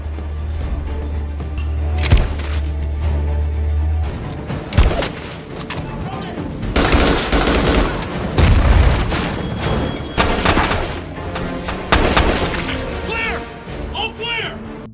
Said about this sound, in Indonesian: ketika masuk ke dalam ruangan tersebut, mereka pun harus disambut dengan tembakan